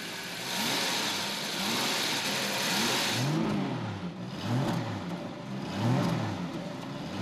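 A 1973 Jaguar XJ12 C with its 5.3-litre V12 hums smoothly and steadily, then rises and falls in a few gentle revs, fairly close and without voices.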